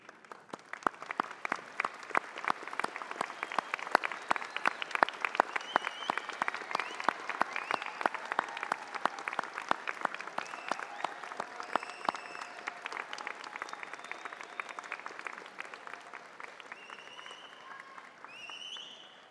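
Audience applause at a Swinburne University of Technology graduation ceremony, a sustained round of clapping from a large standing crowd that builds, holds steady and tapers slightly toward the end, with no talk over it.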